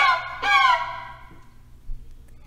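A violin bowed to imitate a mother crow calling her chicks gives a raw, squawky burst of harmonic notes that rises sharply, then fades into a quiet low hum.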